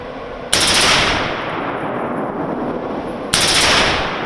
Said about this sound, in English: This is an automatic rifle, known as a machine gun or an M4